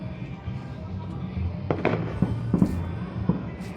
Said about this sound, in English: There's a lot of fireworks happening over here.